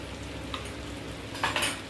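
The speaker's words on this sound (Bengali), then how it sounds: "এখন এটাকে আমি ভালো করে কষাই নিব।" Dal with yogurt and salt fries and is stirred in a pan, giving a steady close sizzle with occasional scrapes of a utensil against the pan, no talk.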